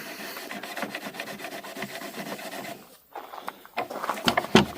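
Bronze furniture casters rubbed and polished by hand, a steady scratchy rasping that runs continuously, breaks off briefly, then resumes in short harder strokes up close.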